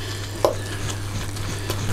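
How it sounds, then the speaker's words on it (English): A knob of homemade butter being stirred into Paxo stuffing mix in a bowl, one brief scrape near the start then soft faint mixing over a steady low hum, no talking. "Knob of butter straight in the top of the Paxo. Give that a little stir in,"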